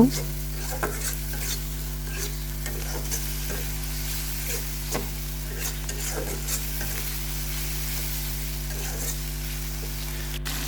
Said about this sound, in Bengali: এখন আমি মশলাটা ভালো মতো কষায় নিব